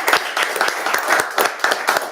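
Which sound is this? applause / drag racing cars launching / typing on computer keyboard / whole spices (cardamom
applause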